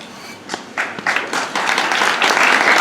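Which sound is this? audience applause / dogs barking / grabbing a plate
audience applause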